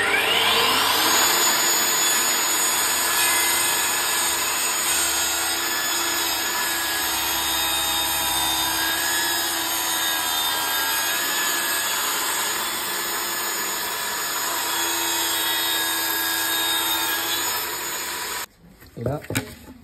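A Mafell Erika 85 saw cuts at a slight angle through a large section of wood, whining loudly and evenly at a steady pitch, then stops abruptly near the end, followed by a few clunks.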